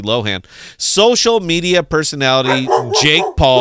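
A pet dog barks and yips a few times nearby, short sharp calls mixed in under someone talking continuously.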